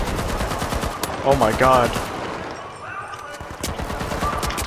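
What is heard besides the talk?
gun firing with recoil, from video game The Finals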